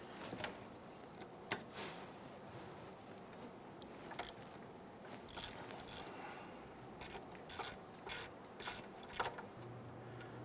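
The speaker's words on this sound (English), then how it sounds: "We're going to use our socket and ratchet to loosen and remove these." Socket and ratchet loosening the 13mm rear brake caliper bolts on a 2011-2019 Ford Explorer, heard as a run of quiet mechanical clicks and ratcheting ticks, some brief and sharp, spread irregularly across a low background.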